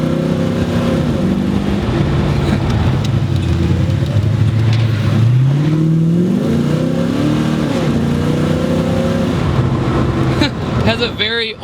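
A Ford Mustang Fox Body with a newly replaced motor runs loud and close, its engine note rising and falling through several revs in a rough muscle-car rumble, with a brief rattle near the end.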